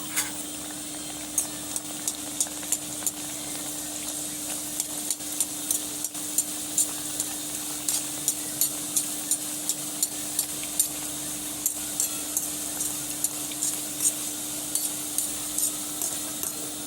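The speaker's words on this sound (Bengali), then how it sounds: "কড়াইটা গরম হয়ে আসলে আস্তে আস্তে কচুরিগুলো দিয়ে দেবো দিয়ে ভেজে নেব" Chickpea-flour kachori deep-fry in a hot wok, giving a steady, even sizzle with a low hum beneath and faint clicks repeating throughout.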